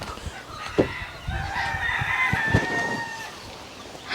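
Chickens on a Hawaii chicken farm cluck in a steady, close chatter while a rooster crows in a long drawn-out call through the middle, with scattered sharp peeps and rustling around them.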